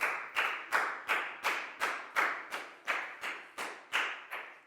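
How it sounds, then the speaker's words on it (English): A Year 4 class in an English lesson claps for a classmate: about thirteen strong, evenly spaced claps in a steady unison rhythm, each with a short ringing decay in the room, with no voices over them. "And a big round of applause for Lakau, please, guys."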